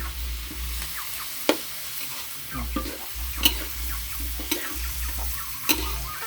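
Shrimp stir-fried with cauliflower and kale flowers in a pan, a constant close sizzle with repeated scraping and clinking of a utensil against the pan.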